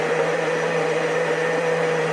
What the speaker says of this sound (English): for a little portable on-the-go thing that will blend your fruit, it's working